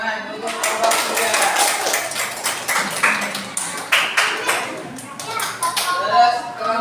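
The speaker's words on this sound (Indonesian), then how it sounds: "kita kasih tepuk tangan untuk kelompok 3" Classroom of primary school pupils clapping for a group of classmates, a dense run of small hand claps mixed with taps and chatter, loud and close, continuing through the whole moment.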